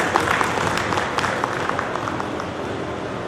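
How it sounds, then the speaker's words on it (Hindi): Audience applause at a Hindi book launch and poetry gathering, a steady wash of clapping from a crowd filling the room, fairly loud and continuous without talk. "एक बार तालियों के साथ चला जाए।"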